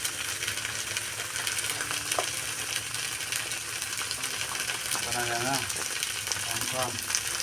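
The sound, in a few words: stirring green chilies frying in a pan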